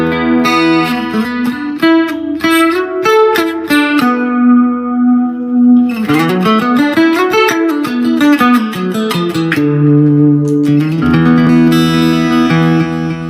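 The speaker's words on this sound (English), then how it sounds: "So that's sound 1. Kind of an acoustic with an octaver in it." Enya NEXG2 guitar set to an acoustic tone with an octaver effect, picked melodic lines and chords ringing with added low octave and a wet, echoing tail, loud and continuous with no voices.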